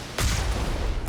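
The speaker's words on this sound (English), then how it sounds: "we'll use the cannon just to clear out the first batch" A cannon fires in Mass Effect, one heavy blast hitting hard at the start and followed by a rumbling roar that holds loud to the end.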